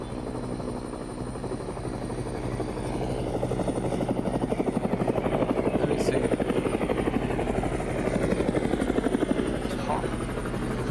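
A helicopter's rotor in a video game chops in a rapid, steady thumping pulse that grows louder and stays close, with faint voices underneath.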